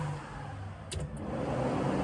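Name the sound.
car intercooler fan running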